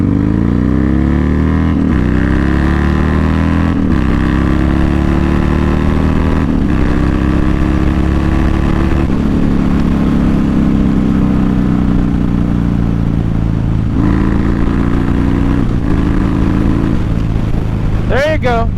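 A motorcycle pulls hard under acceleration, its loud engine drone climbing in pitch through several gear changes with short dips between shifts, wind noise heavy throughout at close range.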